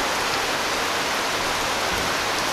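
Steady rain falls at an inland resort in Tagum, Davao del Norte, Philippines, a dense, even hiss of drops pattering on surfaces, constant and close with no voices over it.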